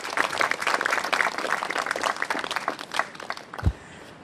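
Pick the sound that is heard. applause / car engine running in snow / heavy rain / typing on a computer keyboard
applause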